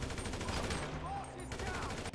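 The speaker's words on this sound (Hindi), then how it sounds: "अरे गोली मार रहा, भाग जल्दी रे फ्रैंकलिन" Gunfire in the video game GTA V during a hotel assassination mission, rapid bursts of shots, loud and dense, with game sounds behind them.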